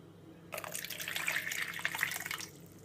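Liquid pouring from a container back into a jug, a steady splashing trickle that starts abruptly, runs close and moderately loud for about two seconds, then stops.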